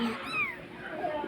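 A cat meows in a few rising and falling mewing calls, moderately close, over soft background noise.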